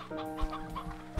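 A chicken in the video game Slime Rancher 2 gives short, soft clucks, a quick run of faint, close bird calls over a quiet background.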